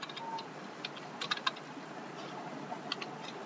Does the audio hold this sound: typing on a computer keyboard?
yes